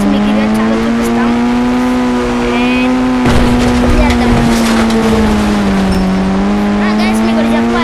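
Engine drone of a car driven in the Indian Bike Driving 3D game, a steady tonal hum that rises and falls slightly, with a louder burst of noise midway, under music-like game sounds and some talk.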